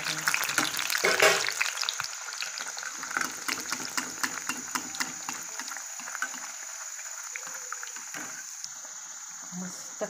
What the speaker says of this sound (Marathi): आता गरम तेलामध्ये आपण तळून घेऊया